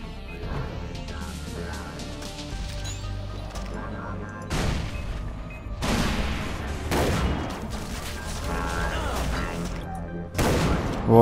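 Gunfire in the game Far Cry 3 Blood Dragon comes in several sharp, loud bursts and booming shots spaced a few seconds apart over a low ambient drone, with a voice speaking between them.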